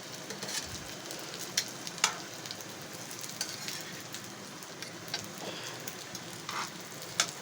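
Paratha fries in ghee on a pan with a soft, continuous crackling sizzle broken by a few sharper pops, with no one speaking.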